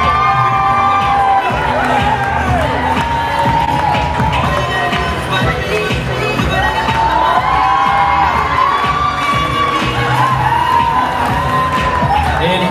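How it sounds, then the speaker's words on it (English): A wedding crowd cheers, whoops and shouts loudly and continuously for the bridal party as it walks in, a dense, near roar of voices with some clapping mixed in. "All right, keep that applause going for Jesse Stevens, escorted by Mike Skirvin."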